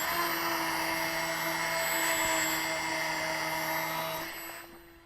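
Liberty Raider radio control plane in flight, a steady, loud, whining motor drone with tonal harmonics that holds for several seconds, then drops away as the throttle is cut.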